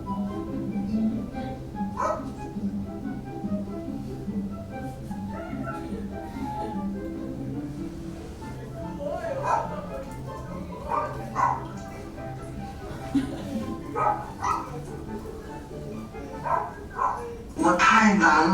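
A small dog barks and yips in repeated short bursts, spread across the stretch and sharper near the end, mixed with a steady background of voices.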